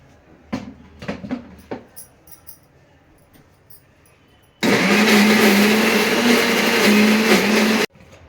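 A kitchen mixer grinds tomato and peanut chutney in a loud, steady whirring burst of about three seconds, preceded by a few sharp clicks and knocks as the jar is set in place.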